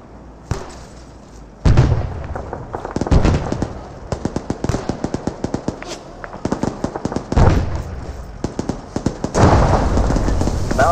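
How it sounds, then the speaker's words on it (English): Rapid bursts of RPG and high-explosive blasts in the ArmA 3 military shooter during a convoy battle, with loud crackling impacts and sharp pops repeating across the scene in dense clusters. "Taking heavy RPG fire."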